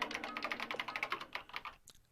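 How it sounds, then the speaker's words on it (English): Rapid keyboard typing from the Danganronpa Trigger Happy Havoc video game: a quick, steady run of close keystrokes that tapers off near the end, with no voices. "Kyoko began typing, the words appearing as fast as I could read them."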